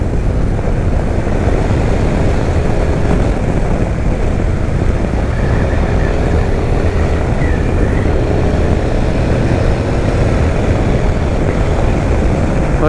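A Honda X-ADV 750 motorcycle ridden on the road, its engine and wind rushing as a steady, loud, broadband roar that holds throughout without speech.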